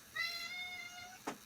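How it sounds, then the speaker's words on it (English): A pet cat lets out one drawn-out, insistent meow, fairly close and clear, followed by a brief soft noise at the end. "that was the cat shouting at me"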